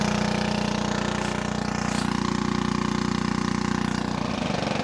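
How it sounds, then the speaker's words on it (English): Irrigation pump engine throttled way back to idle, a loud, steady, rapidly pulsing chug that drones on evenly throughout, close by, with no talking. "As you can hear in the background, really idled the pump way back down"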